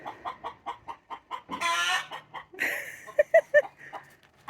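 A hen clucks loudly after laying an egg, rhythmic repeated clucks building into a couple of long squawking cries, close by and alone.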